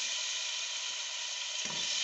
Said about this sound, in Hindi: और उसमें चिकन फ्राई करेंगे।